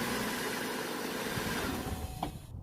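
The engine of a 2003 Kia Sorento, just fitted with a new starter, runs with a steady, rough mid-range drone and vibration. A brief sharp tone rises near the end before the sound drops away abruptly.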